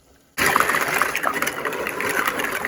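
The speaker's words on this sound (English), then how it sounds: "now that your water is boiling, you wanna add your shells" Jumbo pasta shells tumble into a pot of boiling water, a sudden loud rush of bubbling and splashing that starts abruptly and holds steady, with a faint voice underneath.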